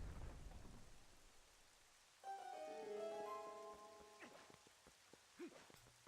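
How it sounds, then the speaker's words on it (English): Steady rain hiss falls throughout a Zelda: Twilight Princess game scene, loud and even at first, then sits beneath tonal game sounds and a few soft thumps. "So the puzzle with this is that it is currently raining"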